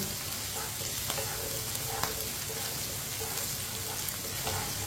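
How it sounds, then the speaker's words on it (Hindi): Okra and finely chopped green chillies frying in a pan after several minutes of cooking, with a continuous dense crackling sizzle and light stirring scrapes, close up and without speech. "भिंडी को मैंने 5-6 मिनट के लिए पका लिया है, फ्राई कर लिया है।"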